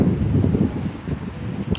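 Wind buffets the microphone outdoors on a hillside walk, a low rumbling roar with uneven gusts throughout, close and fairly loud.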